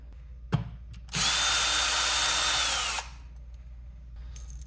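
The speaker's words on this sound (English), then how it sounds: "then I'll put another lag bolt in there" Power drill driving a lag bolt into a wall while mounting an Echo Show 15 bracket, one loud steady whir lasting about two seconds, set off by a few clicks and knocks.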